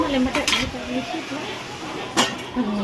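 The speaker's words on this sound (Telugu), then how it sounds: "మూత పెట్టేసుకోవాలి కొద్దిసేపు, అది ఉప్పు కారం పడుతుంది దానికి." A metal lid is set onto a cooking pot of goat head curry, giving a couple of bright clanks and clinks of cookware amid quiet kitchen background noise.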